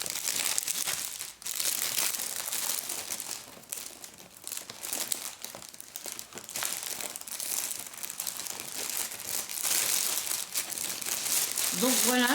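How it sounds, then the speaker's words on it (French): Wrapping paper being crumpled and folded around a fabric storage cover, a continuous close crinkling and rustling with brief tearing-like crackles, loud and steady throughout. "Voilà, je vais le remettre dans son papier d'emballage."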